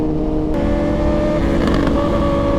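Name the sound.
superbike accelerating past at a bike meet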